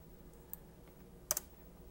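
A few quick computer keyboard keystrokes, faint and sparse, with a soft single click followed by a short double tap in an otherwise quiet room.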